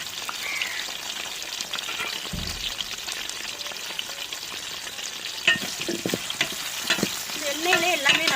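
Tomato, potato, brinjal and drumstick pieces sauté in hot oil with a steady close sizzle, joined by stirring scrapes and clinks that grow busier toward the end.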